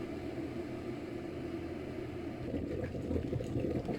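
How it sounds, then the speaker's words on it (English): Steady rolling bubbling of water boiling in a kettle, a dense low churning that grows a little louder and rougher toward the end. "Boiling hot water from the kettle. You can hear it boiling."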